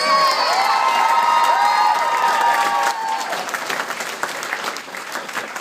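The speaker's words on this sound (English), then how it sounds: "Let's give Pirate Britain a round of applause" A crowd at a masquerade cosplay contest claps and cheers loudly, with shrill children's shouts at first, then the applause thins and fades toward the end.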